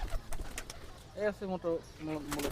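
Imported-bloodline pigeons coo close by in a few soft, throaty rolling bursts, after some scattered rustling and fluttery knocks.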